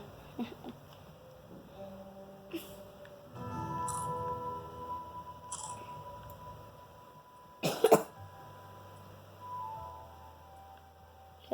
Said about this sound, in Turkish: Bu arada bunlar sahte öksürük değil gerçek.